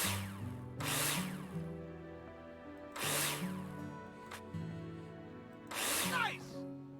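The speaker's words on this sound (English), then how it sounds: "Take your drill out and screw them in." A power drill in the Builder Simulator video game drives screws into plasterboard in three separate loud whirring bursts, with a quieter musical background underneath.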